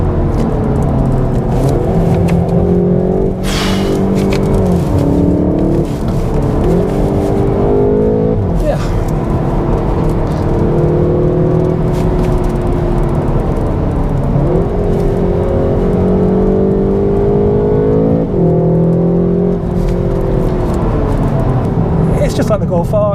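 A performance estate car is driven hard through a corner on a slippery winter road. The engine drones loudly and steadily, its pitch swelling and dipping with throttle, while a person talks over it.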